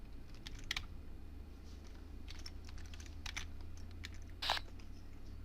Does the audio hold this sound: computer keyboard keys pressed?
yes